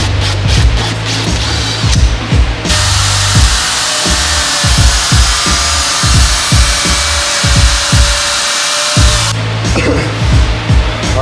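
A power tool trims a plastic fender flare during a front bumper install on a WK2 vehicle, giving a loud, steady cutting whine with rasping pulses, partly under talk from people nearby.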